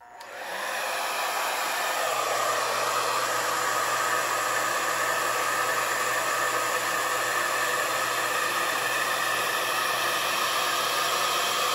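A hair dryer blows steadily on fresh paint, a loud continuous rushing hiss with a faint low hum underneath, running alone without a break.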